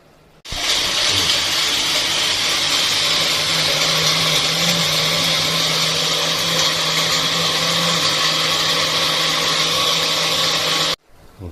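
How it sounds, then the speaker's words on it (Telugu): A mixer grinder whirs loud and close for about ten seconds, grinding onion, tomato, cashew and garam masala for mutton kurma, starting abruptly and cutting off sharply with no talk over it. "ఇది మిక్సీ కొట్టి అందులో వేసి కుర్మా చేస్తున్నాను."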